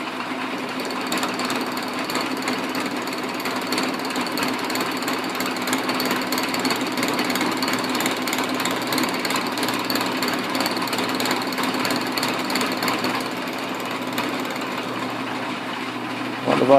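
An Atlas Craftsman QC42 lathe runs without cutting and vibrates, giving a continuous, loud, buzzing mechanical rattle that holds steady throughout, with no voices.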